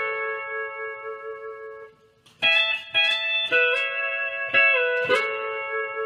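A sustained pedal steel guitar chord, then a short phrase of plucked, ringing notes sliding between pitches, clear and close.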